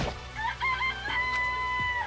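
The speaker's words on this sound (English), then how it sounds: "It's a chicken." A video game chicken clucks and crows in Danganronpa, a string of bright, wavering calls that rise and fall for about two seconds, up close with no voices.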